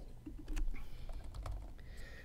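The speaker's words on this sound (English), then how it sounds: "And I can start typing." Fingers typing on a computer keyboard during a font demonstration at a printing user-group session: a quick, uneven run of close keystroke clicks over a steady background hum, with no voices.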